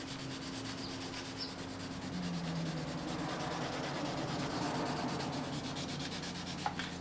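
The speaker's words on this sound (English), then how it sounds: "whenever wet sanding, I like to get these edges out of the way" A sanding block rubs back and forth over wet car paint along the panel edges, a steady, close, soft abrasive swishing with no talk.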